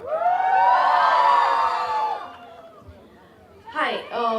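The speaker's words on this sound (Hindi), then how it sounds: "इस टीम के लिए एक बार जोरदार तालियां हो जाएं।" Crowd cheering for a film team at a trailer launch event, a loud swell of shouts and whoops that fades over two seconds, followed by a brief renewed burst of voices.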